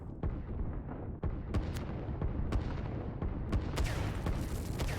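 Artillery fire in the strategy game Line War, a run of sharp booms and blasts at irregular intervals over a constant battlefield rumble, some shots near and loud and others more distant, with no talk.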